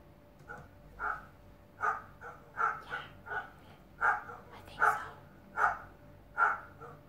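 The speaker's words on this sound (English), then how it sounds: "Dogs barking." Dogs bark repeatedly in a loose rhythm of about a dozen sharp, mid-distance barks, fairly quiet over a low background hum.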